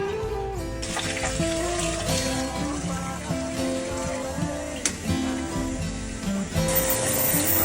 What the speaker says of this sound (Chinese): 由於這部車太黑了，那我就用超声波清洗剂洗一下了。